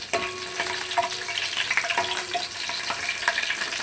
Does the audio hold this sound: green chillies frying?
yes